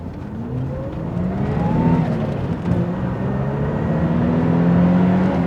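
A 1980s Renault 25 V6 Turbo accelerates from rest to 80, its engine note rising in pitch through gear changes, heard from inside as a steady, fairly loud drone and whir with no talking.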